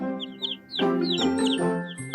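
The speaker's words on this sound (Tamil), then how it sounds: "ஓ அதில் ஒரு கோழி இருக்கிறது" Newly hatched chick peeping in high, thin repeated cheeps, close and clear, with a few clucking fowl sounds alongside.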